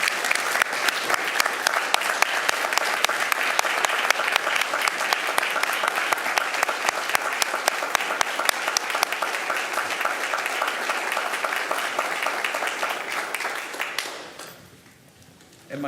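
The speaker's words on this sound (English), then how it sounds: "a round of applause" A meeting-room audience at a school board session claps steadily for about fourteen seconds before the applause fades out abruptly.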